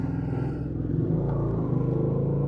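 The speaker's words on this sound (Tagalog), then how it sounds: "Ang naririnig dito parang ano lang mga motor." Motorcycle engines rumble outside, a steady low drone with harmonic banding throughout, fairly close and continuous like bikes passing or idling nearby, with no talk over it.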